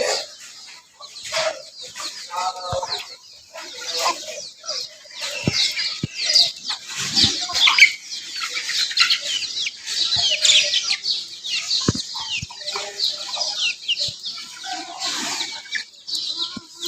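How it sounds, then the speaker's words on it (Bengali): Desi chickens on a farm peck at leaves, with close, irregular clucks and soft calls, scattered pecks and an occasional wing flap. "এই দেখেন মুরগিগুলা"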